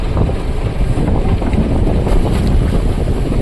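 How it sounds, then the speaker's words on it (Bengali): Loud wind buffets the microphone over rough, churning sea water around a fishing boat as nets are cast, a constant heavy roar with no voices. "আজকে কিন্তু সমুদ্র খুবই উত্তাল,"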